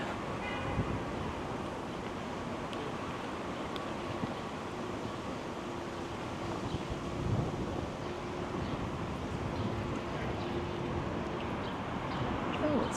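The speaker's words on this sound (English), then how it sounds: "gotten quite windy all of a sudden." Steady wind roars and buffets the microphone on Jarvis Street in Toronto, a constant broadband rush with occasional gusts, no other clear sounds standing out.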